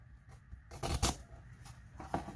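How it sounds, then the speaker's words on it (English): A knife taps against a cutting board in a few quick, uneven chops while dicing vegetables, close and fairly quiet, with no talking. "I love chopping up veggies."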